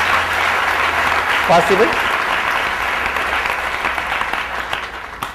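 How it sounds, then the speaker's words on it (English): An audience claps in sustained, dense applause at a spiritual teaching session, the steady patter holding for several seconds and slowly thinning, with a voice speaking briefly over it. "let's give a good clap for their arrangement"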